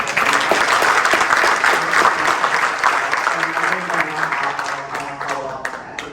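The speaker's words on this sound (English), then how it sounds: "We should give another round of applause." An audience at a policy and budget conference panel breaks into a round of applause, loud and close, dense clapping that is fullest at the start and gradually thins and tapers off, with faint voices mixed in.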